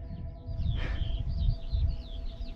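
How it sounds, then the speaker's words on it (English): Birdsong chirps and trills faintly from a distance over a low wind rumble, with one brief louder call in the middle, on Dartmoor in April. "if I shut up, you should be able to hear the birds this morning"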